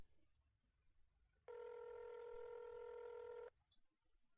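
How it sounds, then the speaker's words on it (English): A phone rings during a call in a video game, one steady electronic ring tone lasting about two seconds, clear over faint background hiss. "The phone dialed for a while and went straight to voicemail."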